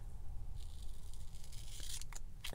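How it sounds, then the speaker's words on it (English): Scissors snip through a thick length of dollar-store fabric tape, a few short crisp cuts near the end over a quiet, low room hum. "All right, so I will cut off a length."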